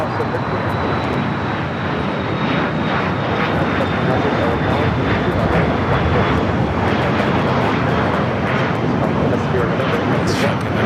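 An Alaska Airlines airliner takes off from runway 25 right at LAX, its engines a loud, continuous broadband roar that holds steady throughout with no let-up.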